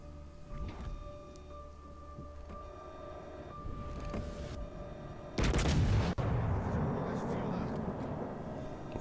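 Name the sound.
battleship main gun salvo firing, from video game World of Warships Legends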